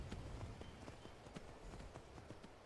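Horse hooves clip-clop in a steady rhythm while riding in the game Skyrim, the repeated hoofbeats sounding close and clear over a dense background with no talk.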